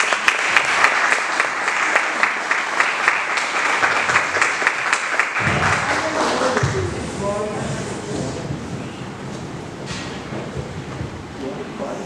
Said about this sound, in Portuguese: Palmas que exaltam Jesus.